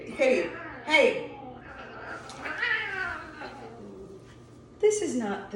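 Several cat meows ring out in separate loud bursts near the start and end, with a few fainter cries between them, over a constant low hum and a bit of background talk.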